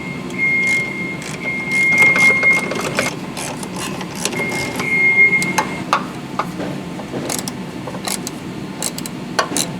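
A 10 mm wrench snugs down bolts on a 2007–2011 Honda CR-V front lower control arm, giving faint metallic clicks and taps under steady garage background noise.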